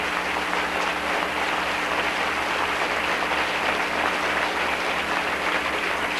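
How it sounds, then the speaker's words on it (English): Sustained, steady clapping from a large audience at the 1990 Miss Indiana beauty pageant, a dense even roar of applause with no breaks, heard alone. "Big round of applause."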